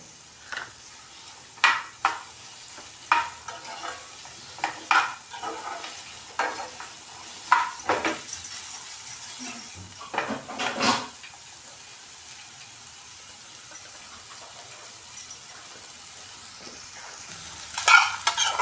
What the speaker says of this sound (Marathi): हे बघा अशी भेंडी आपण इथे फ्राय करतो परततोय